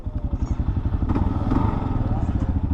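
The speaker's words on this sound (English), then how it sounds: "let's listen to this 652cc single-cylinder engine." A 652cc single-cylinder engine on a 2023 Kawasaki KLR650 motorcycle idles with a rapid, lumpy thumping pulse, close and loud, with faint mechanical clatter on top.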